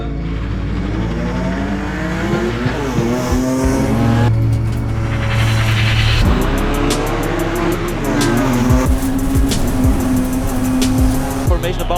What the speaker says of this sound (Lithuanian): BMW 325 Cup second race.